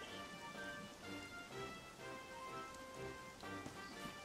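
Rain falling in the video game Dragon Quest XI on PS4, a quiet, steady patter of drops layered with soft tonal game music, with no talking.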